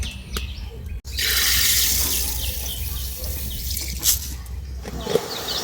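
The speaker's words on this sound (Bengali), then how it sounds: "দিয়ে দিচ্ছি হাফ বাটি জল, আর সম পরিমাণে দিয়ে দেবো চিনি" Half a bowl of water poured into a pan to start a sugar syrup with an equal amount of sugar, a loud steady splashing pour that runs several seconds and then tapers, with faint background chirps.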